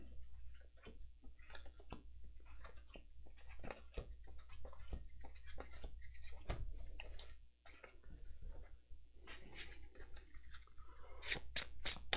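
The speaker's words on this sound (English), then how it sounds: "Do a little pile shuffling." Playing cards for the Marvel LCG card game being pile shuffled, dealt into small stacks with a steady series of light, close ticking and snapping taps on a table, quickening toward the end.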